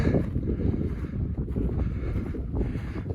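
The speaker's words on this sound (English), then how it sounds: "that wind's been ripping" Strong wind ripping across the microphone outdoors on a winter bobcat trapline, a loud continuous low rumble and buffeting gusts with no talking.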